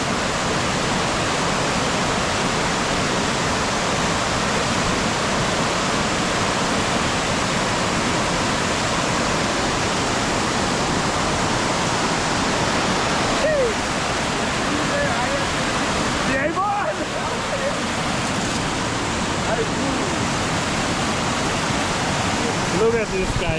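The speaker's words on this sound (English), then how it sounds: "Guys, Silwane, waterfall." A man-made waterfall at Silwane Nature Reserve near Bulawayo gives a steady, loud rushing roar that fills the whole clip, with brief faint voices near the middle.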